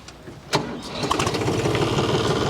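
A tractor engine cranks with a sharp click and catches within a second, settling into a steady, softly rumbling idle that holds close and continuous with no talk.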